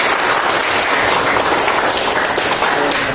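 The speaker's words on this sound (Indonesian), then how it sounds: "Tepuk tangan dulu." A classroom of students clapping together, a dense, loud burst of applause sustained evenly from start to finish.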